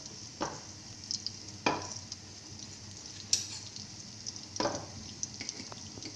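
Dal mash masala fries in ghee in a pan, soft sizzling broken by a few scattered stirring scrapes and clinks, quiet and close with no talk.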